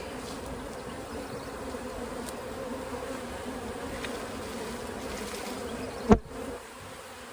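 A dense swarm of bees buzzes steadily close by, ending in a sharp knock or thud.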